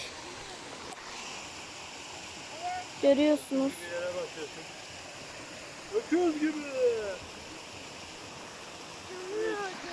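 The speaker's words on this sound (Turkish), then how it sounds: "Böyle şelaleyi görüyorsunuz." A forest waterfall and stream near Sinop rush as a steady, broad wash of water in the background, with people talking intermittently over it.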